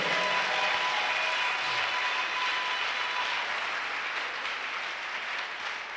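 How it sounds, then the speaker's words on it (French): A church congregation claps together for the Lord, a dense, steady wash of applause that fills the room and slowly fades a little toward the end. "If you believe, give the Lord a big clap."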